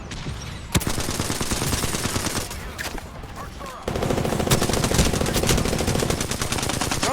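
Gunfire in the battle-royale shooter Apex Legends, with bursts of rapid automatic shots and a few sharp single cracks, a lull in the middle, then a heavier sustained burst, and players talking faintly beneath it.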